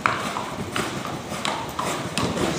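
Hooves of a horse in training clip-clop in a steady walking rhythm, fairly close, over a rough background hiss.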